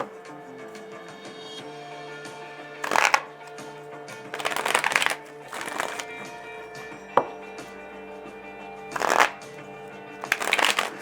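Tarot deck being shuffled by hand, several brisk riffling bursts separated by quiet pauses, close and crisp, with a faint background hum and no talk.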